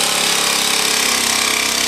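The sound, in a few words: power tool cutting laminate floor plank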